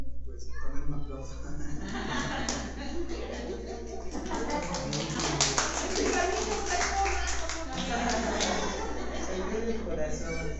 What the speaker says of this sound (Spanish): Pues también un aplauso.